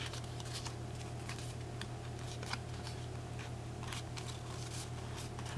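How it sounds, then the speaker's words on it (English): Paper is folded in half for an origami model, giving soft crinkles and faint scratchy creasing rustles over a steady low background hum, quiet and close. "let's fold this edge to this edge. So we're folding this in half."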